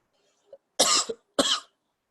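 Two short, hoarse coughs from a person with a cold, close and clear with a brief throat sound before them, otherwise quiet.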